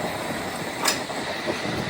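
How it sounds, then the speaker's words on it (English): A London Underground S7 train, not in service, pulls away from Barking station with a steady rolling rumble and a brief squeal of wheels. The sound is moderate and fairly close, and no one speaks. "And here comes another S7 London Underground train, which is not in service."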